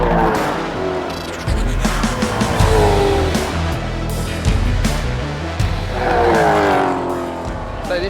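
V8 race cars roar loudly into the last corner at the Adelaide Street Circuit, engines rising and falling as several cars pass close by one after another, with a sustained, dense roar throughout.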